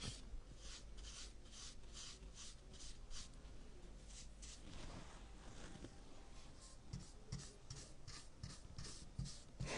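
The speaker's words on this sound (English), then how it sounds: "I'll just sand some of it back a little bit." A painted wooden cutting board is sanded with quiet, rhythmic rasping strokes in a steady back-and-forth pattern, faint and close, with no talking.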